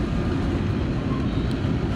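A CSX freight train hauling ethanol on the Henderson Subdivision near Kelly, Kentucky, led by two UP units and a CP unit, gives a steady, loud, low rumble with no voices.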